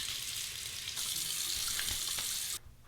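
Water pouring from a tap while a razor is rinsed under it, a continuous close hiss that stops abruptly near the end.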